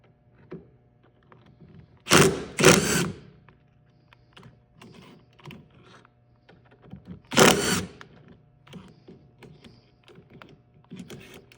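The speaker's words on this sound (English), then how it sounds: "let's go ahead and remove these Torx screws with this" Torx screws being removed from the fuel filter housing on a 2011 VW Jetta TDI Sportwagon, heard as two short loud bursts of a tool and one later burst, with quiet clicks and handling noises between them.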